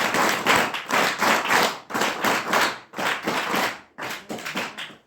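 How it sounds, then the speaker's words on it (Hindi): Children at a boys' hostel applaud to welcome an education officer, several loud bursts of group clapping separated by brief pauses, close and filling the room. "आप सभी लोग जोरदार तालियों के साथ"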